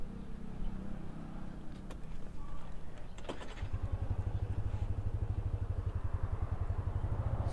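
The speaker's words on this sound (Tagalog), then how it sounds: "kapag nakita nyo tong motor na to" A motorcycle engine starts after a couple of clicks and settles into a steady, close, pulsing idle, with faint background noise before it.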